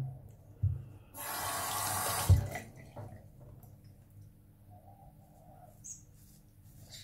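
A bathroom tap runs briefly while a face is rinsed during a shave with natural shave soap, a short gush of water followed by faint splashes and drips in a quiet room.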